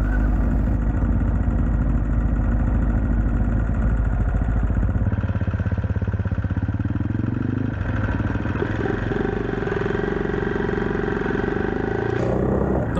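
A trail motorcycle on an off-road single-track route idles with a loud, close rumble, then the engine note shifts and rises as it pulls away. The sound is steady and continuous, with no talking over it.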